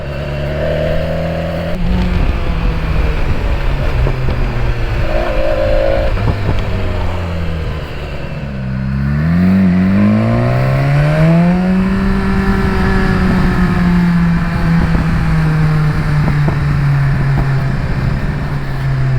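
A loud 2019 BMW S1000XR motorcycle engine revs up and down continuously, its pitch rising and falling, with sharp crackling pops from the exhaust scattered throughout.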